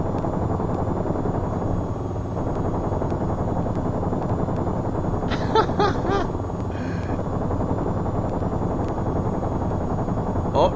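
Gunfire from an AH-94 attack helicopter in the VTOL VR game comes as a short rapid burst over the constant loud drone of rotor and engine, followed by a brief second rattle.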